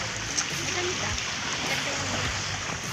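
Continuous rushing wash of seawater along a shore of Burias Island, Philippines, steady and loud, with broadband noise filling the whole clip.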